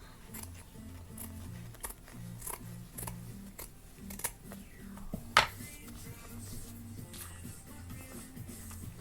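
Scissors trimming denim from a jeans jacket sleeve glued onto old ankle boots: a quiet series of close snips and rustles, with one sharper cut midway.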